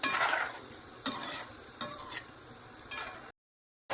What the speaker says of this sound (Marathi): मीडियम फ्लेमवरती आपल्याला हे तळून घ्यायचेत सगळे